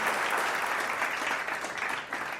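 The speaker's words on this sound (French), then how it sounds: "Merci pour vos applaudissements." An audience applauds steadily at a French community celebration held in memory of a loved one, a dense, continuous wash of clapping from many hands without pause.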